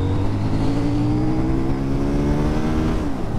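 A CF Moto 800NK motorcycle engine revs and accelerates, its steady droning tone rising in pitch, loud and close throughout.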